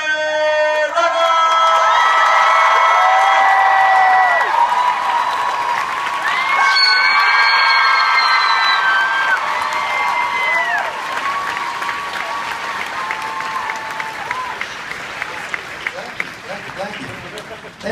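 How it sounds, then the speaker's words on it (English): A packed Comic-Con panel audience at Wizard World Chicago erupts in sustained applause, cheering and whoops for a celebrity guest's entrance, loud and continuous throughout, with scattered shouted voices mixed into the clapping crowd. "make some noise for Jeremy Renner"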